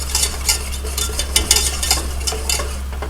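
A spoon stirs broth into a thick gravy mixture in a pot, making repeated close scraping and sloshing strokes over a steady low hum, with no talking.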